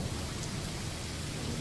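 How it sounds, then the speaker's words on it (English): Steady, dense rain pours without pause in a music track outro, with a low thunder rumble beneath it and no voices. "The outro is pretty simple, downlifters plus rain, thunder"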